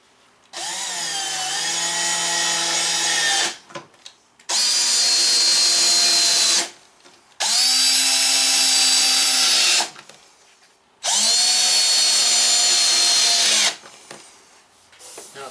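Power drill driving longer screws to fasten trim onto a teardrop trailer, four sustained loud whirring bursts of about three seconds each, separated by short pauses.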